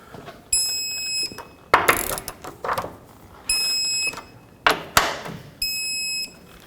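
A torque wrench tightens front control arm bolts on a 2009-2014 Honda Fit, with three rounds of rapid ratcheting clicks, each interrupted by a sharp, steady electronic beep, close and loud.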